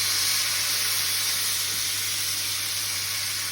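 Water hits a hot frying pan and sizzles loudly, a dense, close hiss of steam and bubbling fat that holds steady for the whole moment before easing slightly.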